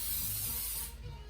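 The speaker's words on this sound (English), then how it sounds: "I'm going to use a little bit of spray pan because I don't want anything to stick" Cooking spray is sprayed onto a baking sheet in one steady, close hiss that lasts about a second and then cuts off.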